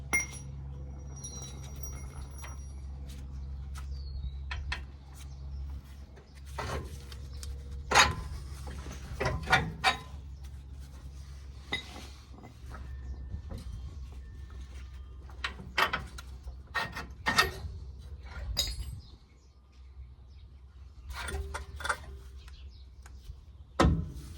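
Bolts and a lower control arm being taken off a truck's suspension during a shock and control arm install, with scattered metallic clinks, ratchet clicks and clunks, close and irregular over a low steady hum.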